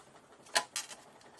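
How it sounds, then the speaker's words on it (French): A cat scratching itself gives a few quick, faint scratchy rustles in a quiet indoor room, a short burst of soft taps close together. "C'est mon chat qui se gratte, je ne sais pas si vous l'avez entendu."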